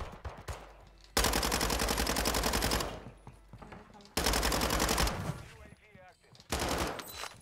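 Bursts of automatic gunfire rattle through a shooter video game in three long rapid volleys separated by brief quieter gaps, loud and close, with short bits of talk in between.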